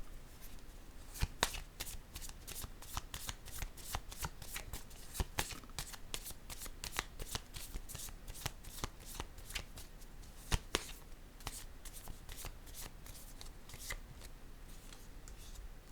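Tarot or oracle cards are shuffled by hand for a card reading, a long run of crisp riffling and slapping card flicks close up and fairly quiet, with no voice over them.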